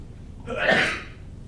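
One sneeze bursts out, a breathy rising blast with a voiced core lasting about half a second, fairly close and alone.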